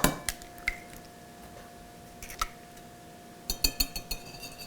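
Two eggs cracked into cookie batter in a home kitchen, heard as a few sharp clicks and taps of shell against a bowl, with a small burst of clinks near the start and a quick cluster of taps at the end, close and fairly quiet.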